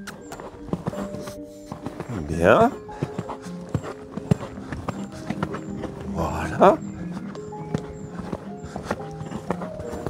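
Horse hooves cantering on a dressage arena surface, soft rhythmic footfalls with a couple of snorting breaths, while a rider talks briefly over them.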